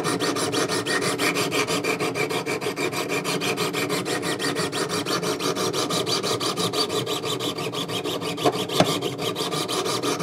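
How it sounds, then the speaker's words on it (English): A knife blade is scrubbed back and forth on a 200 grit sharpening stone to raise a burr, giving close, rhythmic rasping strokes at a fast, even pace for the whole stretch. "I scrub with the 200 grit stone."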